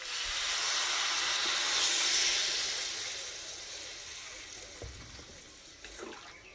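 Water is poured into a hot pan of frying chicken, setting off a loud, steady hiss and sizzle of steam that gradually softens over several seconds.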